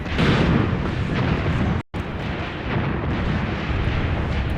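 Mortar and anti-personnel rounds explode continuously in a WW2 desert battle video game set in North Africa with the Afrika Korps, a dense, loud barrage of rumbling blasts that briefly cuts out before resuming.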